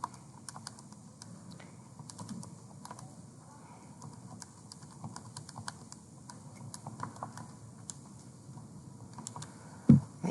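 Quick, light keypresses tap out an answer on a calculator or keyboard in irregular bursts of small clicks over a quiet room hum, close and faint, ending with a sharper thump.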